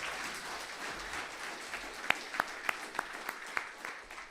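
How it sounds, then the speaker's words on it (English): Scattered clapping from an audience at a silver jubilee anniversary event, honouring a panel of speakers; a soft spread of hands under room noise, with a few louder, sharper claps standing out near the end. "Please give a big round of applause to our panelists."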